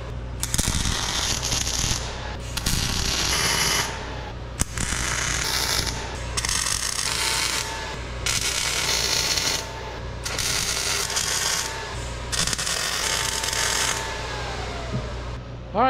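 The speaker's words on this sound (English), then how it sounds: "Now I can weld it up." Arc welding on prefabricated steel parts for a mini excavator thumb, several bursts of loud crackling and sizzling, each lasting one to two seconds, separated by short pauses, close by and without talk.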